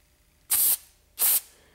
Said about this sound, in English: your carburetor cleaner to spray out the hole